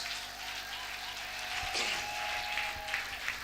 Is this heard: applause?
yes